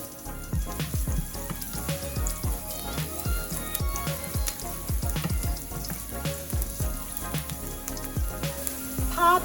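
Garlic stir-frying in about two spoons of oil: close, crackling sizzle with irregular popping spatters and spoon clatter that continues steadily throughout, with no talk.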